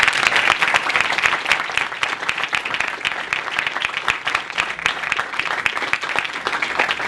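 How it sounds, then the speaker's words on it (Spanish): Sustained applause from a conference audience, thick rapid clapping from many hands that stays loud and even for several seconds, closely heard and without speech. "me acompañen con un fuerte aplauso para agradecerles a ustedes"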